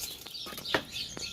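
Birds calling outside a fish farm greenhouse, faint clucks and short chirps scattered over a quiet outdoor background.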